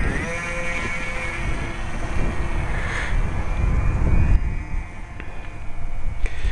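Model airplane with a small buzzing engine flying outdoors in wind, its whine rising and falling as it passes near and away, fairly loud over a constant background rush.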